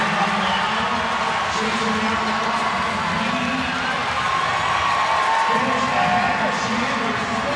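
Spectators at the CrossFit Games 2023 men's event, a large arena crowd cheering and shouting steadily throughout, with a commentator talking over the noise.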